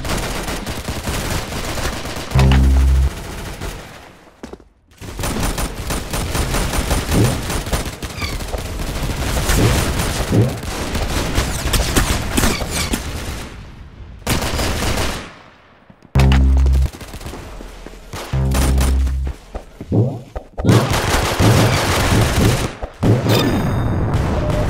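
Rapid gunfire crackles through a Roblox Arsenal match in loud automatic bursts and single shots, broken by short gaps and a few deep thumps, with no one talking.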